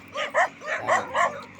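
A dog barks about five times in quick, evenly spaced yips beside a bypass highway with sparse houses, fairly close and clear.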